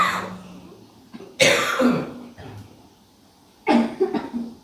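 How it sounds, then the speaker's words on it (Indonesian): Audience members at a religious lecture cough in scattered bursts, several loud close coughs and throat clearings separated by quieter pauses. "Batuk semua, ya."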